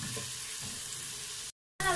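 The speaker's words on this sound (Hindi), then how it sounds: "अभी गाजर की हम उस वक्त तक भुनाई करेंगे जब तक ये गाजर ऑयल ना छोड़ दे।" Carrots sizzle as they fry in oil with chicken in a pot. A continuous frying hiss is heard up close, with some stirring sounds, then it cuts out briefly before resuming.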